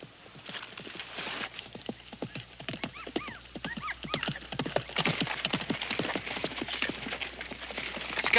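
Rapid hoofbeats of a galloping horse pound in a steady rhythm, with a brief whinny partway through.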